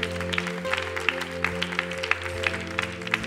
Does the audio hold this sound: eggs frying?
no